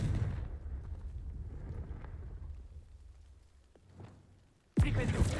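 A Confringo fire spell in Hogwarts Legacy: low rumbling crackle fades for several seconds, then a sudden loud blast bursts out near the end.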